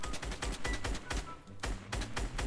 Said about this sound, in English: Yeah, I can hear you shooting.